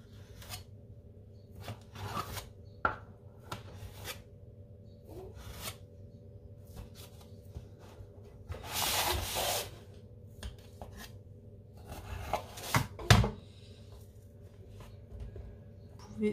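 A knife cuts makroud dough into pieces, giving soft, scattered scraping and rasping strokes at close range, with one denser stretch of rubbing midway and a few sharp taps near the end, no talking.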